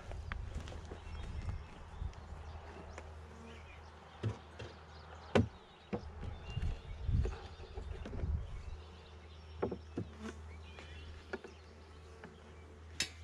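Honeybees hum faintly around a beehive being moved to a new bottom board, with scattered thumps and knocks of the boxes over the low drone.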